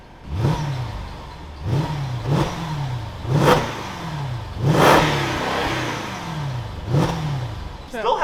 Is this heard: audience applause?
no